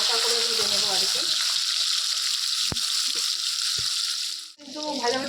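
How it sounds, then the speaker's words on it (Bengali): Paneer pieces sizzle in hot oil in a pan, a steady bright crackle running throughout, with a brief dip near the end and occasional soft stirring knocks and a faint voice underneath. "বেশি কিন্তু ভাজবো না, একটু হালকা করে ভেজে নেবো আর কি।"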